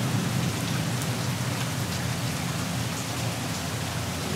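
A rainstorm with steady, heavy rain pouring down on surfaces, a dense, continuous hiss that stays loud and even throughout with no voices.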